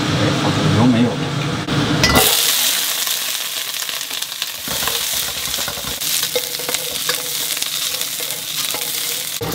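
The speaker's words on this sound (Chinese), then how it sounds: "这一步呢，主要是把板栗炒黄炒香" Chestnuts being stir-fried in oil in an iron wok, a loud sizzle after a quieter opening with talk, then steady frying hiss with scraping and clinking stirs throughout.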